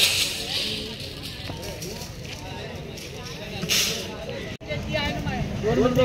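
Crowded Maharashtra S.T. state transport bus packed full of passengers, with a steady engine and road rumble. Voices chatter throughout, the noise briefly cuts out near the end, and an air-brake-like hiss is faint.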